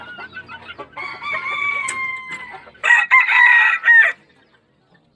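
A game rooster of Brown Red and War Horse bloodlines crows nearby on a farm, loud and drawn out, with softer clucking and bird calls before it.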